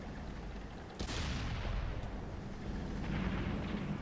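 Tank cannon fire in the World of Tanks console game: a single sharp boom with a rumbling tail, followed by the steady low drone of battle and distant rumble.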